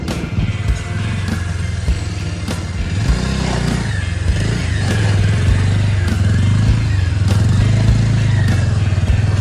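A motorcycle rides into a yard, its engine running loud and close, with a steady low rumble, a few clattering knocks and a slight rise in revs partway through.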